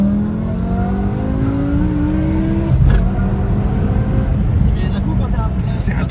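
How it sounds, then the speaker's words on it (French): A BMW M5 E60 with its V10 engine pulls hard, the engine and exhaust note climbing steadily through the revs, then a brief break at a gear change before the loud drone resumes from inside the car. "Le son de la ligne par contre il est magnifique"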